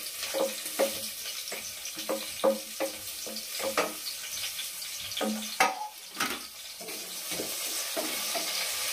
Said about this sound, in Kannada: ಈಗ ಶುಂಠಿ ಬೆಳ್ಳುಳ್ಳಿ ಫ್ರೈ ಮಾಡ್ಕೊಂಡು ಹಸಿಮೆಣಸಿಕಾಯಿ ಫ್ರೈ ಮಾಡ್ಕೊಂಡು ಈರುಳ್ಳಿನ ಸೇರಿಸ್ಕೊತೀನಿ